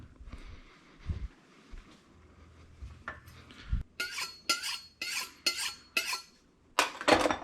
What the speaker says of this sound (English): We're going to cut up this dirty little brassica into just kind of some florets